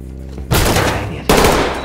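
Door kicked in during a tactical breach in the video game Ready or Not: two loud, sharp crashing impacts, the first at about half a second and the second near the end, each followed by a dense, sustained roar.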